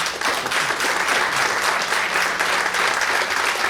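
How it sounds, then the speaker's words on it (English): An audience at a Web3 investor day event on AI security applauds its panelists. The clapping is dense and steady, close and loud, and continues alone throughout. "Can we get a round of applause for our panelists?"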